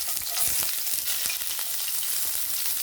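Garlic sautés in hot oil for a hotdog and baked beans dish, making a loud, close, continuous frying sizzle with a crackling hiss.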